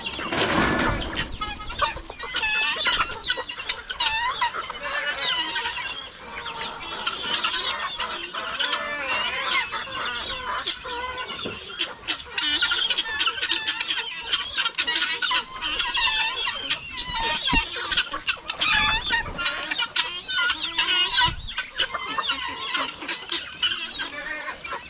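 Chickens cluck and chatter continuously at a rural hut as the flock comes home, with many birds close by and overlapping calls over a busy background.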